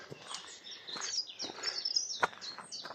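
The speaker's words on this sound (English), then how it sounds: "It's full of bird song." Several small birds sing in a sheltered coastal patch of scrub, with bright chirps, quick trills and tweets overlapping close by and no one talking.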